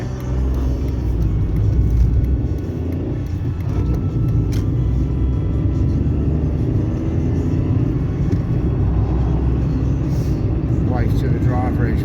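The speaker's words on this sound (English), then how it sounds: "my car don't really accelerate very quick. It's only a little 1 litre" A small 1-litre car drives and gathers speed slowly, its steady low engine rumble and road noise filling the cabin continuously, with someone talking over it throughout.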